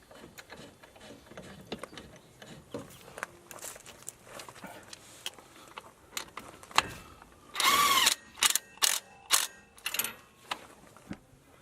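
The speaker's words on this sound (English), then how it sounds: "this is a 21mm socket. I'm going to get that bolt started." A hand ratchet fitted with a 21mm socket starts a shock absorber bolt on a 2010 Dodge 3500 truck during a Bilstein 5160 install. Quiet scattered clicks and handling noises lead into a burst of rapid ratcheting strokes, close and clear.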